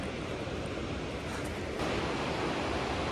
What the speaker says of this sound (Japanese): ほっそい滝